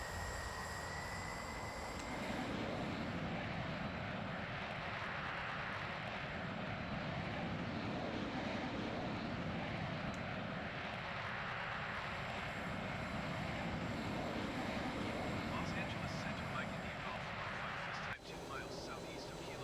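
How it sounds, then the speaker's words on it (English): A MiG-15 turbine jet engine in Microsoft Flight Simulator drones as a steady, even whine and roar, quiet and continuous under someone talking, cutting off near the end. "I'm not trying to bombard you with a turbine engine."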